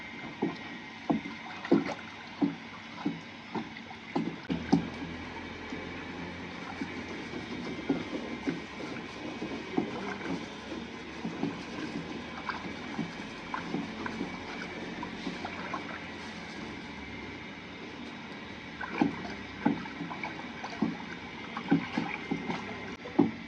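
Fifteen liters of water with Natrosol stirred by hand for liquid soap gives a quiet, steady sloshing swirl with regular soft knocks and splashes, repeating throughout at a low level.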